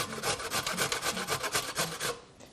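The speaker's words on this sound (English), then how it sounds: "I just leave the skin on it and we just grate it up." Fresh turmeric root with the skin left on being grated, a quick run of about a dozen rhythmic rasping strokes, close and crisp, fading out at the end.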